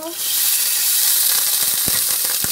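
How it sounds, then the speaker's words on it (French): Food frying in hot margarine in a pan, a loud, steady, close hiss of sizzling throughout with a few soft pops near the end. "moi j'ai commencé à faire la friture avec de la margarine"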